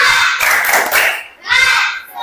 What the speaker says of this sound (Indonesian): Mari kita dulu tepuk semangat.